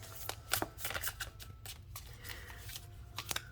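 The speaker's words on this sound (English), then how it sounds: "I'm going to shuffle better." Tarot cards are shuffled by hand in quick, papery riffles and flicks, soft and close, with small uneven bursts over a quiet room hum.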